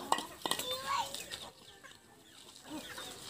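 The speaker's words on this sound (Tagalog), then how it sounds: "Ang dami na niyang mga alagang manok." Chickens cluck among a large backyard flock of kept hens, with short, close calls over a rural outdoor background while people talk nearby.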